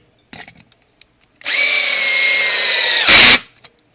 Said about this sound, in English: that's when you know you got a good drill